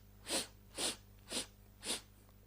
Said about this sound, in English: inhale through the mouth in 8 equal